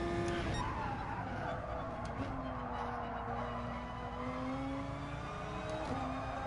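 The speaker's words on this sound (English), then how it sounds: "There's no life in the sound of this car" Race car engine in the GT Sport driving game runs steadily throughout with rising and falling pitch through gear changes, while tyres skid and squeal under the engine drone.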